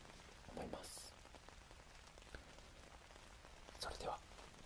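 Rain falls during the rainy season as a soft, continuous patter with faint scattered droplets, heard quietly in the background with occasional brief rustling taps over it.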